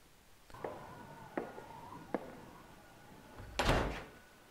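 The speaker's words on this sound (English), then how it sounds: "this game has opened up with a door closing" A door closes in the video game Meditations: three soft knocks over a faint steady hum, then a louder thudding slam near the end, fairly close and alone without talk.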